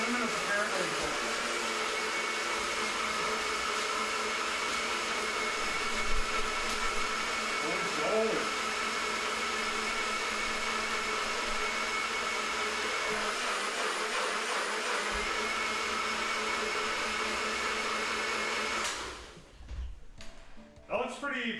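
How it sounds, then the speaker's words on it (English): Electric grinder whirring as it grinds cinnamon, a loud, steady mechanical buzz that runs nearly twenty seconds before cutting off, with a voice talking over parts of it. "let's grind up the cinnamon"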